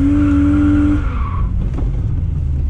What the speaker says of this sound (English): Handbrake, going to get sliding onto power, and then we're going to try and get right out to that cone